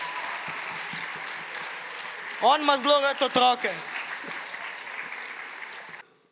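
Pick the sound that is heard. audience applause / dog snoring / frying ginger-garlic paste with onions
audience applause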